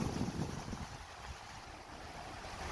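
A vehicle pushes through deep floodwater in a flooded Chaiyaphum town centre, a steady broad wash of churning water with low rumbling, loudest at the start and then a constant roar, with no talking.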